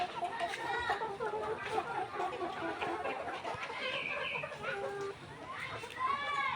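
Chickens and two roosters on a layer farm, hens about 115 days old and coming into lay: continuous clucking, cackling and crowing from many birds close by, with some chatter in the background.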